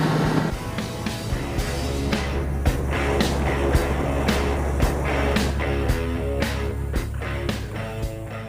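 A motorcycle leaned over at full angle with the throttle opened wide, its engine pulling loud and steady beneath regular sharp clicking ticks, with no talking.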